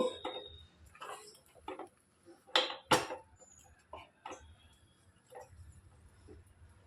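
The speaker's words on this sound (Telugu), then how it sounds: "ఇలాంటి తెడ్డు అయితే అండి కలుపుకోవటానికి చాలా తేలిగ్గా ఉంటుంది" A wooden paddle stirs thick finger-millet ragi sangati dough in a pot, making faint, irregular thuds and scrapes with a couple of louder knocks in a quiet kitchen.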